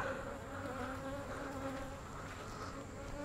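Honey bees drone in a continuous, even buzz from a beehive opened for inspection, close and steady, with many insects humming together and no talking.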